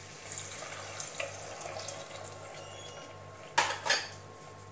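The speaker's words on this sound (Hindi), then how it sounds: "एक कटोरी भर के हम पूरे ये पानी डालेंगे इस तरह से" Water splashes from a bowl into a pot of macaroni in two quick bursts near the end, over a steady low kitchen hum and faint clinks of utensils.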